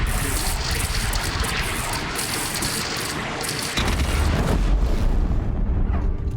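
A heavy weapon in the video game Horizon Zero Dawn fires with a deep booming blast partway through, set against dense, continuous game noise that stays loud before and after the hit.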